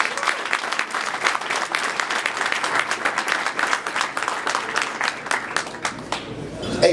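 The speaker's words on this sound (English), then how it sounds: "So give all of yourselves a round of applause." An audience at an evening event in a Jewish heritage museum gives a round of applause. Many hands clap in a dense, lively burst that holds steady and then begins to thin out near the end.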